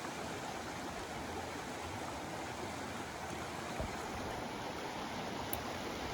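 Steady broadband rush of a small North Georgia mountain stream spilling into a plunge pool, constant and close with no pauses and no voices.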